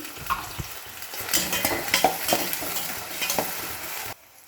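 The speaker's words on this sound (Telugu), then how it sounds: "ఇప్పుడు మనకి ఉల్లి వేయించాలి" Onions and green chillies frying in a pan for a dried fish roe curry, a steady close sizzle broken by stirring scrapes and spoon clinks, with no voices, cutting off abruptly near the end.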